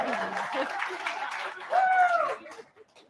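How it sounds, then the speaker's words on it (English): Scattered clapping and cheering from a crowd at a geology talk, with chatter and laughter mixed in, fading out toward the end. "round of applause for Bryce."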